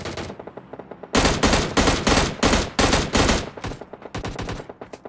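Rapid automatic gunfire rings out in the PUBG Mobile Lite video game, likely from an AKM or M416, as loud dense bursts broken by short gaps, after fainter shots at the start.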